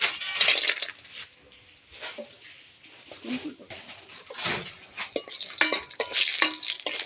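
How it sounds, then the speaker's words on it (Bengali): Bori lentil dumplings fry over a wood fire, with irregular stirring clatter, light clinks and crackling bursts close by. "বড়িটা ভেজে নিচ্ছি আগে"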